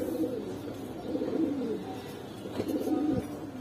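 Soft repeated cooing from a Hurricane pigeon, steady low throaty phrases rising and falling for a few seconds, near and alone without voices.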